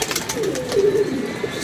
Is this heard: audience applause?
no